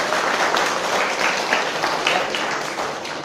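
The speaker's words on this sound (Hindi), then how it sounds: "जोरदार तालियों से स्वागत।" Audience applause welcoming guests at a Women's Day charity event for disabled people, a brisk, loud patter of many hands clapping together, steady throughout with a few sharper individual claps standing out.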